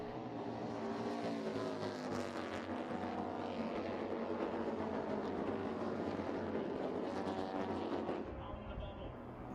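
AMA Pro flat track motorcycles race around the Sacramento Mile, a dirt oval, with the throttle feathered through long corners, producing a loud sustained engine roar that swells and fades near the end, heard from trackside.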